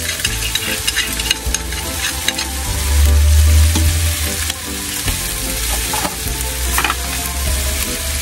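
Squid, garlic and chopped onion fry in a pan for homemade paella, a loud, dense, continuous sizzle with frequent stirring scrapes and clatter close by.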